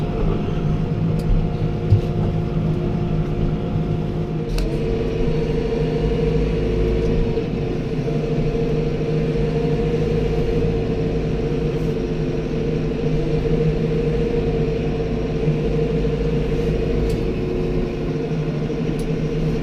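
A New Holland T5.120 tractor engine runs steadily and loud up close, a constant low rumble with a few faint clicks and knocks over it.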